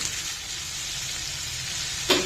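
A beans curry frying in a pan gives a steady, even sizzle throughout, with one brief clatter near the end and no talk.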